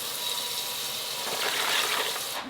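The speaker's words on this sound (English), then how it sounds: "Now we're going to add 6 more cups of water" Water pouring steadily into a container of turkey brine, a continuous splashing gush heard close up and alone, lasting a couple of seconds before it stops abruptly.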